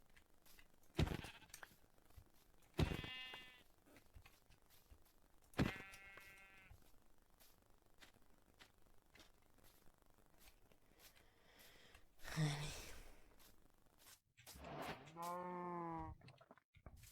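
Sheep bleat in Minecraft, several separate wavering bleats spaced across the stretch and fairly close, with quiet rustling and brief clicks between them.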